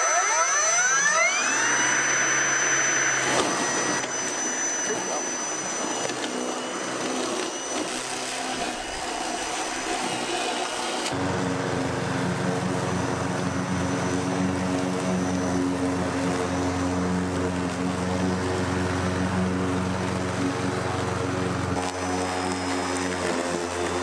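A battery-powered Ego lawn mower fitted with metal blades runs continuously close by, a loud steady whine with a rising spin-up early on and a deeper tone once the blades engage, with no talk.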